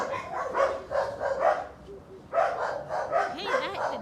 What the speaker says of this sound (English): the dog and the dog next door are fighting